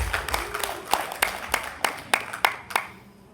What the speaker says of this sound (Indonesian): Tepuk tangan lagi buat Riau.